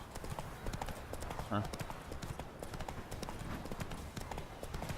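Horse hooves clip-clop steadily as the horse is ridden in the Witcher 3 video game, with someone talking over the rhythmic footfalls.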